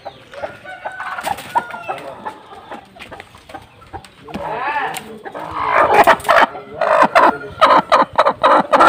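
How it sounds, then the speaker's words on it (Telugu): Breeding hens and roosters at a poultry farm cluck and call in a lively, overlapping chorus, growing louder and busier toward the end, mixed with some background voices. "బ్రీడింగ్లో వేసిన పెట్టలు కూడా అన్నీ అక్కడే ఉన్నా"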